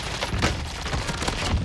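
Rapid gunfire from a Call of Duty Warzone match, a dense rattling burst of shots from middle distance that continues without pause through a short stretch.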